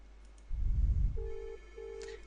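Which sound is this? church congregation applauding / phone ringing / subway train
phone ringing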